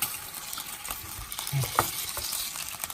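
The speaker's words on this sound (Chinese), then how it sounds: "看到没有，这油越煎越多。" A thick cod fillet pan-frying in its own rendering fat gives a soft, close sizzle with faint crackles and light stirring or scraping touches, steady and fairly quiet throughout.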